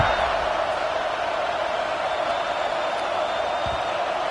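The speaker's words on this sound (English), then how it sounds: "this crowd is feeling themselves after that last drive" Stadium crowd at a football game roaring steadily during a kickoff, a dense, loud wash of cheering that holds level throughout without clear breaks.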